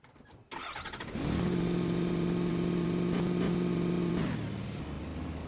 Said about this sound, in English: I hear these cars and I'm like, I keep wanting to yell at the drivers to change gears